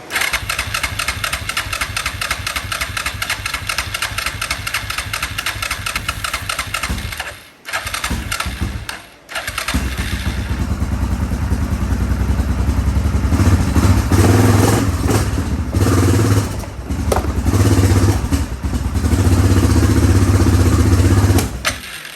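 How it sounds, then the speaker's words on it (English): A Yamaha Grizzly 660 four-wheeler with a carburetor backfire cranks and runs loud and close, chugging steadily, cutting out briefly twice, then catching again into a rougher, heavier idle. "kind of backfired to the carburetor there"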